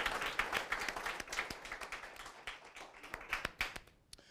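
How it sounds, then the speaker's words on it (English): Scattered, moderately distant clapping from an awards ceremony audience, uneven individual claps that thin out toward the end. "Let's give them all a warm round of applause"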